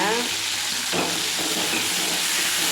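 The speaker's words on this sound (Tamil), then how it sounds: "இது கூட 2 தக்காளி கட் பண்ணி வச்சுருக்கோம், அதையும் போட்டு நல்லா வதக்கி எடுத்துடலாம்" Onions and chopped tomatoes sauté in a pan for bean chutney, a steady close sizzle running throughout with a brief scrape of stirring near the start; no one speaks.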